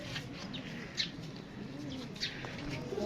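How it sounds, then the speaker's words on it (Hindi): Pigeons kept at a home cooing softly with low repeated calls, faint wing flutters and small chirps over a steady ambient background. "ये देखिए इनके कबूतर हैं।"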